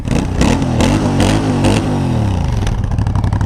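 Aprilia Shiver 900 twin-cylinder motorcycle engine revving loudly up and down close by, with a throaty, pulsing rasp that rises and falls for several seconds.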